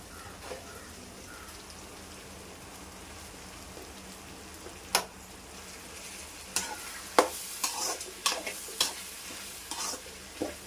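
A spoon stirs rice into a tomato tempering in a hot pan, giving a faint, soft sizzle broken by a few sharper scraping clinks toward the end. No one talks.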